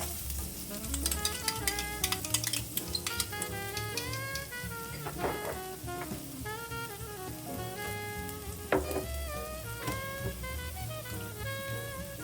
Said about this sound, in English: we're just gonna saute these for about a minute and then remove them